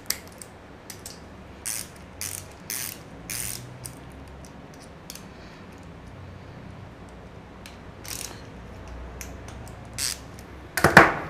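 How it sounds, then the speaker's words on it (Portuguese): A small screw being tightened by hand on a Yamaha 125 motorcycle engine during assembly, giving a string of light, close ratcheting clicks in short bursts, ending in a sharper metallic clatter. "Agora é só pôr o parafusinho ali e apertar ele."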